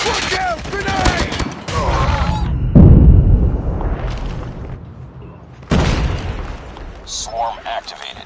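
A grenade explosion in the mobile shooter Call of Duty Mobile, a heavy boom in the middle of a burst of gunfire and game sounds, with voiced in-game callouts before and after.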